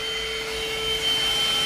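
A portable high-power handheld car vacuum cleaner runs steadily, a close, constant motor whine and airflow hiss with no talking.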